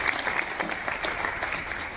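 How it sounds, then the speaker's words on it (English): Audience at a church camp giving a round of applause, brief, dense clapping at moderate loudness with a faint crowd murmur beneath. "Give her a round of applause for being a good sport."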